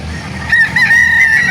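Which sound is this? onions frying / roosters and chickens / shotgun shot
roosters and chickens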